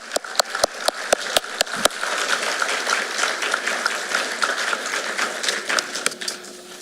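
An audience at a high school sports awards ceremony applauds the student athletes, opening with a few sharp separate claps before dense, steady applause fills the room and tapers off near the end.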